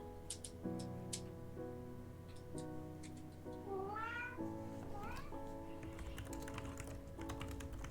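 A cat meows several times, short rising and falling calls alongside quiet tapping like typing on a keyboard, faint and fairly close, with no speech.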